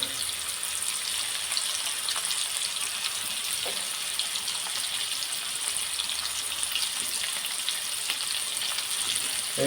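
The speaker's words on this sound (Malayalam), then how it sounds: "നമ്മൾ ഷാഡോ ഫ്രൈ ചെയ്താണ് ഇതെടുക്കുന്നത് ചൂട വറുത്തെടുക്കുന്നത്" Tuna pieces shallow-fried in hot oil, Kerala style, give a steady, close, dense sizzle that holds evenly throughout with no talking.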